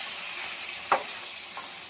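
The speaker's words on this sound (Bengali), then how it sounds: "এবার আমি এদিকে দেখুন মাছ ভাজছি" Fish frying in oil in a kadai, a continuous close sizzle with a single sharp spatter or stir clatter midway and a fainter one near the end, no talking.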